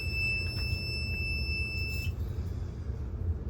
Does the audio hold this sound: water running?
no